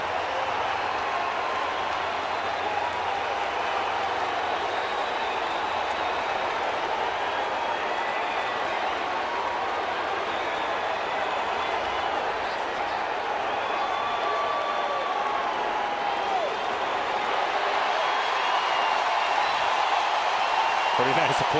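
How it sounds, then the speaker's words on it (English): Baseball stadium crowd giving a long, sustained ovation for manager Lloyd McClendon, steady dense clapping and cheering filling the whole stretch. "Pretty nice applause for him, too."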